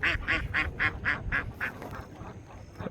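Native Bengali domestic ducks quack in a steady run of about seven loud, evenly spaced calls close by, then fade into quieter rustling and scattered softer calls outdoors at a rural wetland.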